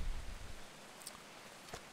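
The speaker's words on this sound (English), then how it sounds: "It's raining." Rain falls in the video game Atlas as a faint, steady hiss, with a muffled thud at the start and a few soft clicks.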